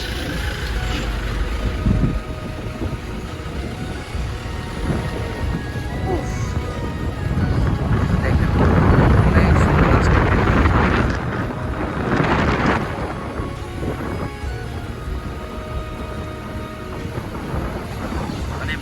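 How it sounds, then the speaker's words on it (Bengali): Strong wind roars and buffets the microphone while riding in a moving vehicle on the hill road from Bandarban to Chimbuk, swelling to a loud peak midway, with someone talking through it. "আমার কথা বোঝা যাচ্ছে কিনা জানি না, কারণ বাতাস প্রচুর"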